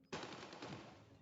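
Burst of rapid gunfire in a video game, a dense continuous volley lasting about a second, loud and close.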